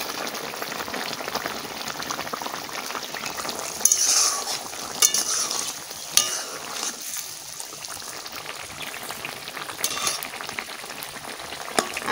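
Fish goes into a pan of frying curry with garlic and green chillies, giving a continuous bubbling sizzle with occasional clinks and light splatters throughout.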